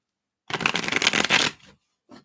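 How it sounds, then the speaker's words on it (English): Tarot cards are shuffled close up in a quick riffling burst of about a second, followed by softer shuffling taps and a brief final knock, with no talking. "I feel like I need to shuffle these up here."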